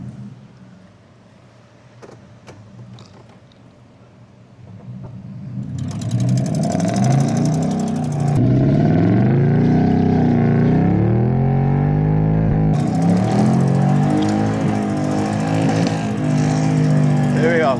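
Outboard boat engine revving hard while the boat sits stuck, a steady loud roar that swells and holds with shifting pitch, preceded by quieter idling and handling noise.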